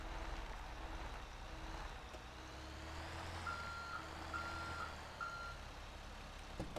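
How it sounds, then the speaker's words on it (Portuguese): A truck's reversing alarm in GTA V gives a string of evenly spaced electronic beeps over a steady low engine rumble and street noise, moderately near, with no talking. "Tem um caminhão fechando a rua aqui, tá vendo, ó?"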